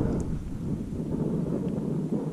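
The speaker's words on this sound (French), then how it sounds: "Je ne sais pas si vous allez entendre, le vent commence à se lever" Wind gusts outdoors, a low, steady rumble buffeting the microphone with no one speaking.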